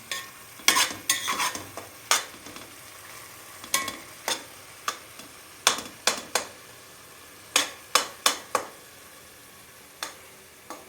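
Tomatoes fry in a pan while a utensil stirs them, giving a soft sizzle beneath a string of sharp, irregular scraping clicks against the pan, close and clear with no talk.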